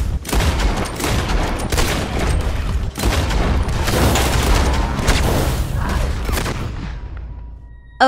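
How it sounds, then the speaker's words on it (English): Intense, sustained gunfire from explosive and incendiary rounds in Red Dead Online, loud and dense with overlapping booming bursts that roll on for several seconds before tapering off near the end. "we'll see when you're out of explosive and incendiary rounds"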